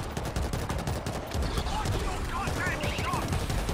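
Rapid turret gunfire in a zombie shooter game set in Jerusalem, a dense, continuous burst of automatic shots rattling without pause throughout.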